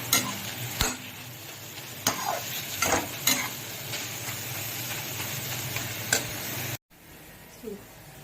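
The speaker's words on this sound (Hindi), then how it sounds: "तो यहाँ पे मैं भून रही हूँ खोया, जिसका बनने वाला है करंजी।" Khoya roasting in a pan for karanji, a soft continuous sizzle with occasional sharp scraping stirs and taps of a spatula, close by, ending abruptly in a brief cut before faint rustling.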